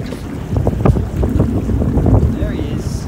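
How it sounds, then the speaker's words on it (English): A fishing boat's diesel engine runs as a loud low throb under heavy wind noise, steady throughout with a faint voice in the background. "Asphyxiated by the diesel engine."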